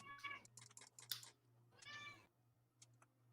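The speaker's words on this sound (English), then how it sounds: "And a cat." A cat meows in a few drawn-out, tonal calls that rise and fall, separated by brief pauses over a steady low hum, fairly faint and close.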